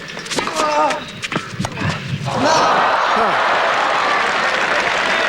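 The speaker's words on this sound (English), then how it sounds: "They're hearty cheers for both" Tennis crowd at the 1991 French Open men's match between Agassi and Courier, cheers and applause building after a stretch of commentary-like voices, then a loud, sustained roar holding steady to the end.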